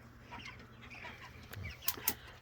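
Meat chickens cluck softly outdoors beside a pond, with scattered short calls, a low steady background hum and two sharper, louder bursts near the end.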